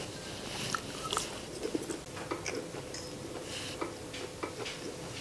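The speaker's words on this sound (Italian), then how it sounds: "Ti vediamo tutti che stai masticando ancora prima di iniziare." Someone chews a bite of creamy zucchini and cheese lasagna up close, with soft irregular crunches and mouth clicks over a low room background and no talk.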